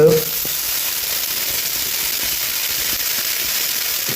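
Vegetables stir-frying in a hot pan for restaurant-style veg noodles, beans going in after tomato and coriander: a steady, loud broadband sizzle that holds evenly throughout, with a brief clatter at the very start.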